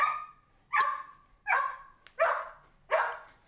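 A dog barks five times at a steady, even pace, each bark clear and moderately close, with nothing else heard.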